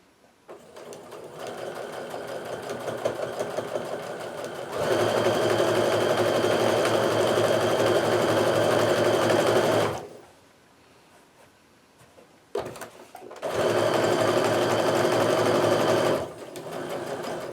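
A sewing machine stitches quilt pieces in long, fast, even runs, loud and close, stopping for a pause of a couple of seconds and then starting up again for another stretch.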